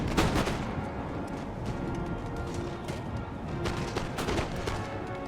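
Musket volleys and cannon fire in Empire: Total War, a busy battle with crackling rifle shots and heavier booming impacts, loud at the start and then a steady rumble of distant firing throughout.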